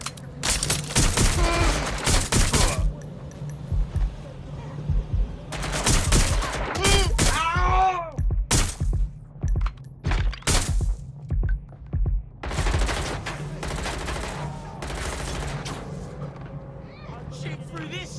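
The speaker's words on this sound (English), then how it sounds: "Taking cover! I'm getting shot at here!" Heavy gunfire in Watch Dogs: Legion comes in loud, dense bursts of shots separated by short lulls, with shouting voices breaking in between the volleys.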